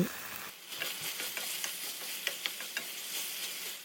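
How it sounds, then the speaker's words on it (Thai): Pork belly and blanched long beans stir-fried in red curry paste for pad prik khing, a steady close sizzle broken by a series of light spatula scrapes and clinks against the pan, with no voices. "ใส่ถั่วฝักยาวที่ลวกเอาไว้ ผัดเบาๆให้เข้ากัน"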